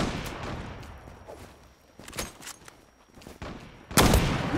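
Sniper rifle fire from a CheyTac in the online shooter Zula, with sharp broadband reports near 2.2 s and a louder crack around 4 s amid scattered in-game noise.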